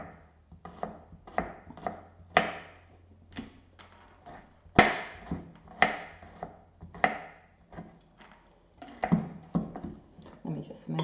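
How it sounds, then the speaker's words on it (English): A knife finely chopping garlic on a cutting board for tzatziki, a series of close, crisp rhythmic taps and thuds in uneven bursts, fairly quiet. "And now we're just going to finely chop the garlic."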